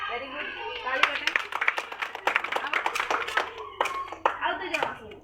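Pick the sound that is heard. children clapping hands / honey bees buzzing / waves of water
children clapping hands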